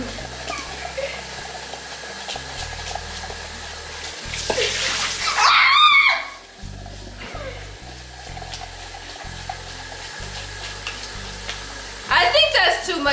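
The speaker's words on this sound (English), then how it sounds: "Let me mix. Let me mix." Baking mix and water being stirred in a bowl, a steady scraping and sloshing close by that is sometimes under talk, with a louder burst of clatter in the middle.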